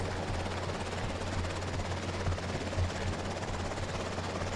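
Steady rotor drone of a helicopter in the EmergeNYC video game, an NYPD aviation unit hovering over city buildings, holding an even, loud whir with faint thumping throughout.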